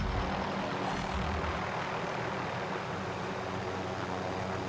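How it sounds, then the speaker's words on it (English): Steady engine drone of a helicopter in Call of Duty: Warzone, a continuous broadband rumble with no talking. "I'm in the helicopter"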